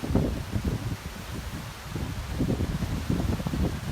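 Steady wind buffeting and rustling, a continuous low roar with gusts swelling and easing throughout, fairly close and moderately loud.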